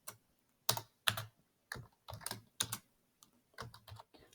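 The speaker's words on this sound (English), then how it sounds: "I will type here marginal error." Typing on a computer keyboard, short bursts of crisp key clicks in irregular clusters separated by brief pauses, close and fairly quiet in an otherwise silent room.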